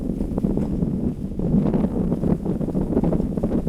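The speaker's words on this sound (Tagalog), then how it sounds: "Grabe hangin." Strong wind buffets a microphone fitted with a furry windscreen outdoors, a loud continuous low rumble with gusty surges throughout and no clear talking.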